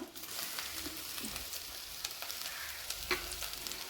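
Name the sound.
frying urad dal, chana dal, chilies, curry leaves, ginger and garlic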